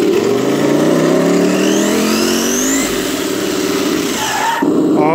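Loud simulated engine from a sound module in a brushed 1/10 RC car, revving and rising in pitch over several seconds, then dropping off and surging again near the end.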